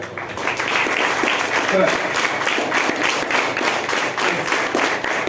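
A roomful of people at a job orientation session claps loudly and steadily for several seconds, a dense sustained patter of many hands, with some voices mixed into the noise.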